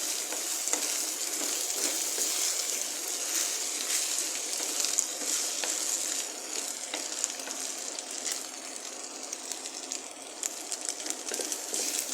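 Bitter melon and four eggs sizzling steadily in a frying pan, a continuous close crackle with small stirring clicks throughout and no talk.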